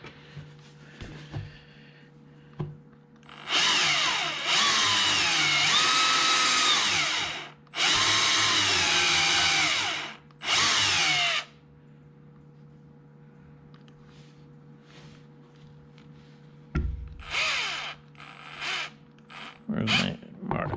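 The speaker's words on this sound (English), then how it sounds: "Put a mark on the step that's 1/2 inch so I won't drill it too far" A power drill bores into a fuel container while fitting a spout and vent kit: three loud whirring bursts of several seconds each, close by, then quieter handling noises and short drill blips, with speech at moments.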